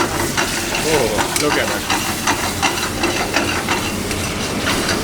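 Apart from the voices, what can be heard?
pizza sauce being sautéed in a pan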